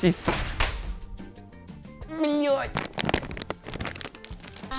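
Crinkly cereal flakes packaging is torn and rustled open in close, irregular bursts of crackling and crumpling, with people talking over it throughout.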